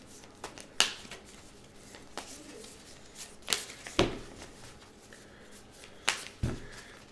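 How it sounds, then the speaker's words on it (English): Cards for the Clank! Catacombs board game get shuffled by hand, giving a handful of crisp, separate riffle snaps and slaps at irregular intervals, close up and fairly quiet against a soft room hiss. "And then we'll shuffle up the rest here."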